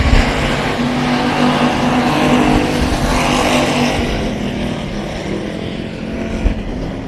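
Race cars at Texana Raceway Park roaring around a dirt track, a steady, loud engine drone that rises and swells as cars pass close, sustained throughout with no clear gaps.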